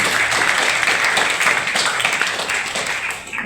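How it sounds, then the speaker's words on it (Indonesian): Loud, sustained applause from an audience of schoolchildren at an assembly in a vocational high school, honoring a guest speaker; a dense, continuous clatter of many hands that tapers off at the very end. "Tepukan untuk Pak Zulfahmi"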